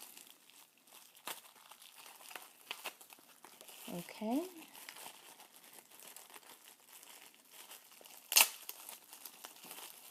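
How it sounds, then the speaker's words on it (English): Plastic packaging for an iPhone 5 tripod mount crinkles and rustles faintly at close range. A brief louder burst of crumpling and tearing comes midway, then a single sharp snip as it is cut open. A voice speaks briefly. "Gonna get some scissors, snip that off"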